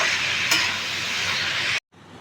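Potatoes, onion and dried chillies frying in a pan, a dense steady sizzle up close, briefly stirred, before cutting off to a quieter hiss.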